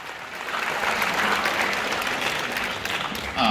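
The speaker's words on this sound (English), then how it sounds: "So give them a big round of applause." A banquet audience at a high school band banquet gives a brief, steady round of applause, heard from within the room, with a louder burst near the end.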